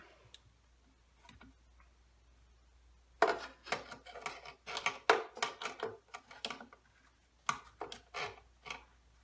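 Bolts are tightened and nuts held in place on a homemade cigar box guitar, producing a burst of small, close ticking and clicking taps with short pauses between clusters.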